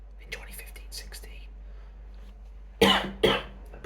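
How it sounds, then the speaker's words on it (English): Two sharp, close coughs from a man near the end, after soft whispered speech. "Apologies, guys, I've got a bit of a cough."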